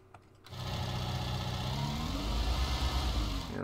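A skid steer's engine starts up and settles into a steady, loud mechanical drone while clearing snow from a driveway, running continuously close by with no voices.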